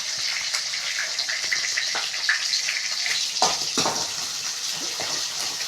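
Crushed ginger and slit green chillies sautéing in a pan for Tamil fish kulambu, a steady broadband hiss of frying with occasional stirring scrapes and clicks, close and continuous, no talking.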